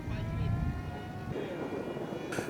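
An electric radio-controlled model airplane whines overhead at a club flying field, its motor giving a steady droning tone at moderate distance with a faint shift in pitch as it passes.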